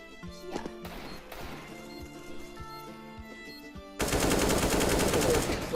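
Gunfire in Counter-Strike: Global Offensive, a rapid burst of close, sharp shots with metallic clatter and impacts, followed by a louder, denser wash of game noise.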